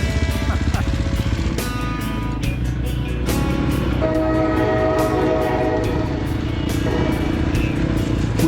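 A train on the Adelaide-Darwin railway in the Australian outback sounds a loud, sustained horn over the heavy rumble and clatter of rolling wagons, close by and strong throughout.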